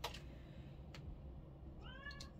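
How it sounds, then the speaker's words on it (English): Domestic cats squabble indoors, giving a few short, faint meows and a rising whine in a quiet room, with no talking. "My kitties, not playing nice."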